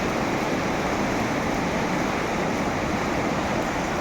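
A river swollen after a flood rushes past in a continuous, dense, roaring wash of water that stays loud and steady throughout, with no voices.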